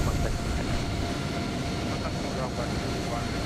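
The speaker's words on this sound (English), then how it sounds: "That Cessna is all over the shop, and up it goes." A small Cessna takes off in Microsoft Flight Simulator 2020 at Kai Tak, its dense, steady engine roar filling the whole moment at close range with no pauses.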